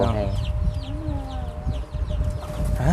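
Chickens raised by villagers clucking and calling close by on a farm, a busy flurry of short clucks and squawks with a rooster-like call, while people talk over the birds.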